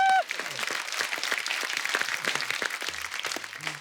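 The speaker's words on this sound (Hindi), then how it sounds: "जोरदार तालियां बोरी और चंदू के लिए।" Studio audience applause for two guests on a comedy talk show, a dense sustained burst of clapping that holds steady and tapers slightly near the end, with a short tone at the start and no talk over it.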